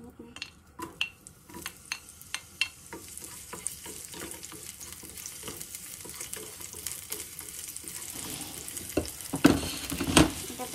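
Onions frying in a hot pan, a close, continuous sizzle broken by sharp clicks and scrapes of stirring, growing louder with bright spatter bursts near the end, no voices.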